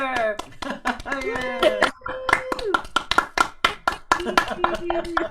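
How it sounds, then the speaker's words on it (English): Applause from a small gathering after a live performance of a song, with scattered clapping hands mixed with voices talking and singing over it. "Here's some applause you can hear."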